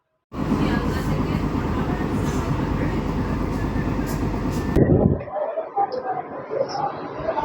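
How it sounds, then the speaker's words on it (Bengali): An AC local train leaving Khardaha station rumbles loudly along the tracks, a dense rolling roar that drops away suddenly, leaving quieter background noise and faint voices. "খড়দহ রেল স্টেশন ছেড়ে বেরিয়ে যাচ্ছে"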